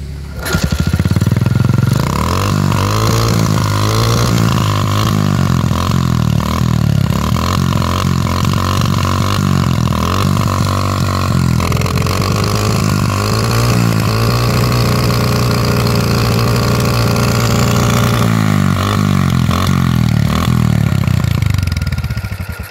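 A motorcycle engine fires up and runs with a loud, close, rough clattering idle. It blips a few times in uneven bursts, settles into a steady rattling run, then cuts off near the end.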